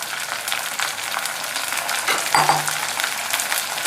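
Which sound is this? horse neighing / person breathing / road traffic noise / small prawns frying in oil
small prawns frying in oil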